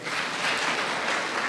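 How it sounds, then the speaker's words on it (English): A brief, dense burst of audience applause at a delegates meeting fills the moment after an award is presented, steady and even without distinct individual claps. "Let's continue clapping."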